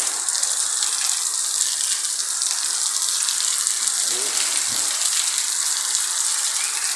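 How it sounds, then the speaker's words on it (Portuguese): Summer rain pours over the city of Satuba, Alagoas, a steady, dense hiss of drops hitting surfaces that holds at an even level throughout with no pauses. "Graças a Deus tá chovendo"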